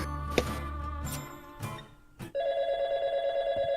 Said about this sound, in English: Cute phone.